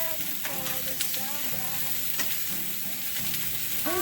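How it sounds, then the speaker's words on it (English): Philly cheesesteak vegetables sizzle in oil in a crowded skillet, a dense steady hiss with a few soft stirring scrapes, close and continuous, and a faint voice underneath at times. "give it a nice little stir real fast to get them all nice and covered in oil"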